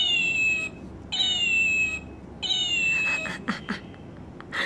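A cat gives three drawn-out, high meows separated by short pauses, close and clear, followed by some soft handling noises.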